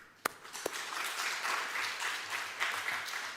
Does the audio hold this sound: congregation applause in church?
yes